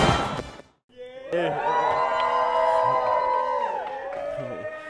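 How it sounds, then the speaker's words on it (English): Rowdy high school crowd at a homecoming game day cheering, a loud sustained roar of whoops and yells close by after a brief pause. "I'm here with this rowdy crowd here at Atlantic Coast."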